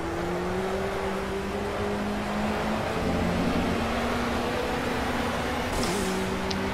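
A historic Ford Sierra race car engine drones steadily in the Project Cars video game, a sustained buzzing note that rises and shifts as it revs, with road and wind noise beneath.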